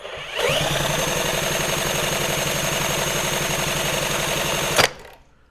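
A 1964 Honda Super Cub engine spun over continuously for about four seconds with a rapid, even chugging rhythm close up, then cut off abruptly, leaving near silence.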